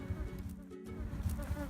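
Honey bees, about ten thousand workers and a queen, buzzing inside a shipping package, a low, steady, faint hum that holds throughout.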